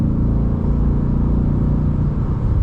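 A 2025 BMW M8 Competition engine while driving through a turn, a loud, steady low rumble heard from inside the cabin with no change in pitch.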